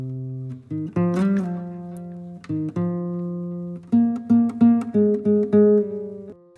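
Acoustic guitar, recorded dry and close, plays strummed chords and picked notes in short phrases, with sharp attacks and brief gaps between them. Every chord stands alone, with no voices.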